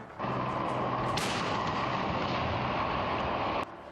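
Ukrainian tank advancing on enemy positions with soldiers riding on its armour, a steady loud mechanical rumble and clatter of engine and tracks that holds for several seconds, with no talk.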